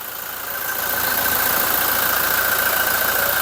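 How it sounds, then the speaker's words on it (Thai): A 2017 Toyota Hilux Revo Smart Cab pickup's 2.4-litre engine idles steadily up close, a smooth constant hum with a bright whirring layer that swells slightly in the first second. "ฟังเสียงเครื่องไปในตัว เสียงเครื่องนิ่ม"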